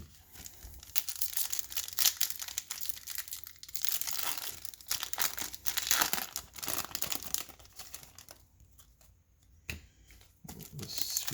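Topps trading card packs tear open and foil wrappers crinkle, with bursts of rustling, crumpling and card shuffling at close range, paused now and then, while a person talks over parts of it.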